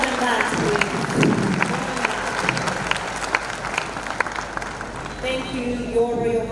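Audience applause fills a university graduation ceremony, a steady dense wash of clapping lasting several seconds at moderate distance, with a voice speaking over it near the end.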